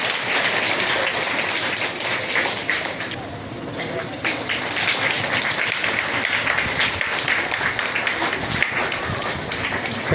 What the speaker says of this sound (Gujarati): તો એમના બેન તાળીઓથી આપણે વધાવી લઈએ